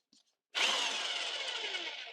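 A heavy power drill bores a hole for shower plumbing, starting with a brief tap and then running as a loud, sustained grinding whine close by.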